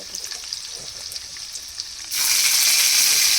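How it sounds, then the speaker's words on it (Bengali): Ginger paste dropped into a hot frying pan for shahi paneer: a soft crackle of frying gives way abruptly to a loud, bright, sustained sizzle. "এবার আমরা একটু আদা বাটাটা দিয়ে দেবো"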